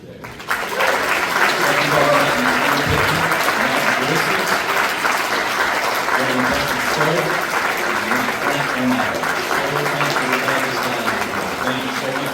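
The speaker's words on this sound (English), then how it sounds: "Join me, please, in a round of applause for all of our entertainers today." An audience at a children's home benefit concert gives the entertainers a long, sustained round of applause, dense crowd clapping that swells quickly and holds steady for over ten seconds.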